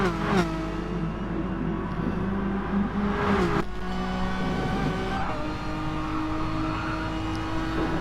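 Renault Megane Cup race cars at Dragon Trail in a racing video game, a steady loud engine drone with rising revs and gear changes, one car sweeping close past early on and another near the middle.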